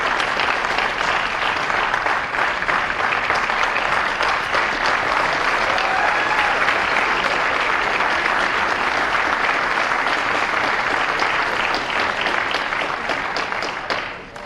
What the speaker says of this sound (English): One last round of applause for Zach.